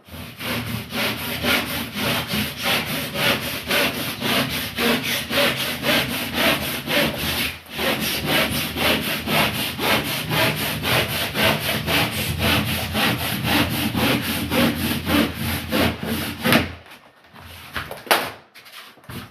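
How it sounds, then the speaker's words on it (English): A plasterboard edge being chamfered for a conservatory plastering job, giving steady rapid rasping strokes that run continuously for about seventeen seconds and then stop, close and loud. "So I'm going to chamfer it that way."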